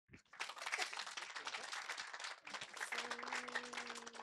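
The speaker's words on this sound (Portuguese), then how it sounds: "Palmas!" Audience applause at a technical talk on web scraping with Scrapy: dense, steady clapping from a crowd that rises quickly and carries on for several seconds, with a faint voice joining near the end.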